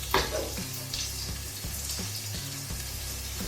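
Three onions fry in oil in a pan for prawn pepper masala, giving a soft, steady sizzle with occasional spoon clinks and light scraping, fairly quiet and without voices.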